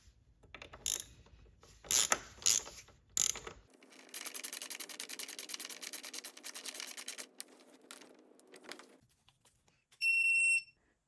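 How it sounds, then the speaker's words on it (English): Ratchet wrench tightening a footpeg bolt on a 2021 Yamaha MT-07 motorcycle: a few sharp metallic clicks, then a steady buzzing ratchet run lasting several seconds, close and moderately loud, ending with a brief high beep. "I'm going to hand thread it and then I will ratchet it back into place."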